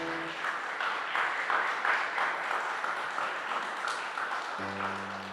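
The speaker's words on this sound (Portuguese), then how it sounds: "Você pode aplaudir a Jesus?" A church congregation applauds in a sustained, moderately loud wash of clapping, with brief musical tones sounding at the start and end.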